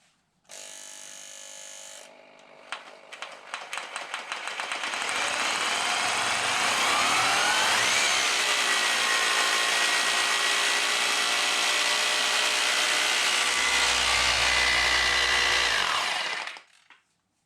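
An electric drill powered by a Bluetti EB3A portable power station gives a few short stuttering bursts, then ramps up to a loud, steady high-pitched whine that holds for about ten seconds before stopping abruptly.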